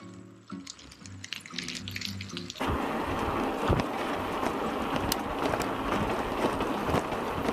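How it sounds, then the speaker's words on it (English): Water rushes steadily from a river at the bottom of a gorge on the Pipiriki section of a New Zealand cycle trail, a continuous hiss after some nearby clatter at the start. "I can hear the water at the bottom."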